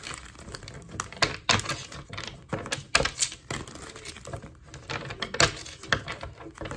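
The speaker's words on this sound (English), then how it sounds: "These cards are hard to shuffle." Rapid clicking and flicking of stiff, hard-to-shuffle tarot cards being shuffled up close, in irregular bursts with short pauses between them.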